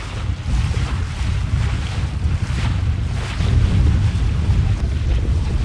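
Strong wind roars continuously across the microphone on a sailboat, with gusts swelling and easing over rushing water and boat noise.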